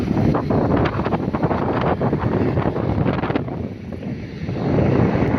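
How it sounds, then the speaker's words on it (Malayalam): Strong wind buffets the microphone in a continuous, loud roar beside a highway, with rumbling gusts that dip briefly before surging back. "നല്ല കാറ്റുമാണ് ഈ ഏരിയ."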